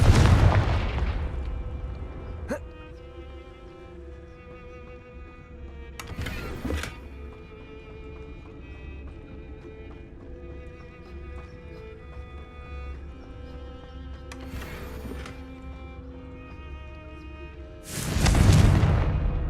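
In the Hogwarts Legacy video game, Confringo fire blast spells go off as several booming explosive bursts over a low ambient drone, the loudest blasts at the start and end.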